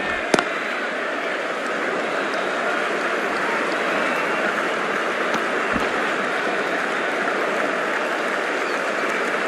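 A stadium crowd at the IPL cricket final between Kolkata Knight Riders and Sunrisers Hyderabad applauds steadily, a dense, continuous wash of clapping and cheering with a couple of sharp knocks.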